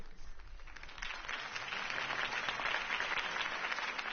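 Crowd applause follows a campaign speech in Batman: The Telltale Series, a continuous wash of many hands clapping at moderate volume that stays steady and fairly distant throughout.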